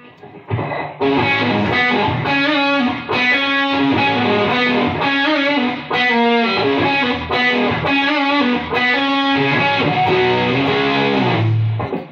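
A loud, heavily distorted electric guitar plays a chugging riff of sustained chords with brief breaks, alone without any talking.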